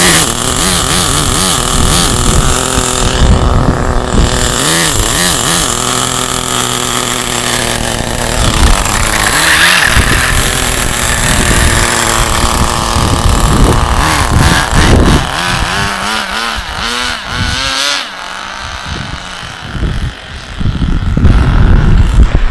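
Small nitro engine of a Condor Pro RC buggy runs continuously with a high throttle trim, a loud, buzzing drone close by that wavers in pitch and surges near the end.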